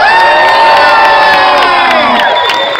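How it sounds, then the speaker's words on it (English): A crowd at a drag show cheers loudly with whoops and high shouts, a constant close roar of excited voices with no pause over the whole stretch. "We need a huge round of applause."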